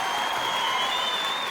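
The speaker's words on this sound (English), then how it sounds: "I like the clapping." Audience applause fills a comedy show, dense steady clapping from a crowd heard close with no pause.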